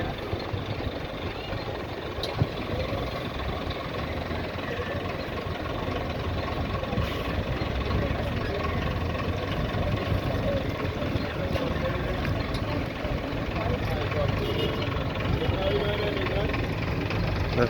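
Big blue and yellow buses idling at the Speightstown bus terminal in St. Peter, Barbados, a steady low engine rumble throughout under outdoor ambience and a speaking voice.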